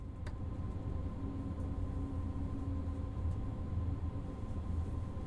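A DB BR 406 ICE 3M train coasting in a train simulator, a steady low rumble of rolling wheels and hum that stays constant throughout with no talk.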